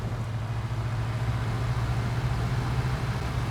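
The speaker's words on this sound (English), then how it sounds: "Except for the engine sound, of course." A low, steady truck engine drone rumbles throughout, constant and unbroken, with no voices, in the video game SnowRunner.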